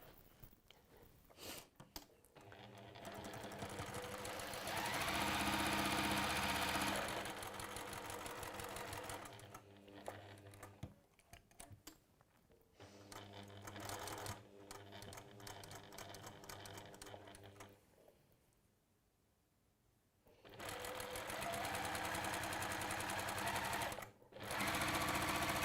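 A sewing machine runs in several bursts while stitching down fabric, a steady close mechanical whir broken by short pauses, with no talking.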